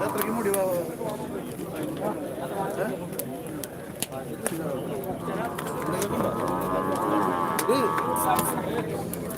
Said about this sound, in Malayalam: കാള നിൽക്കണം കേട്ടോ കാള